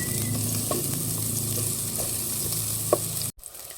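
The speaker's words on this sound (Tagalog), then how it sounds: "akin na po ay ginigisa" Vegetables for sinigang na bangus sautéing in a pan, a steady close sizzle with occasional stirring clinks, cut off abruptly near the end by a brief drop to quiet before the frying resumes.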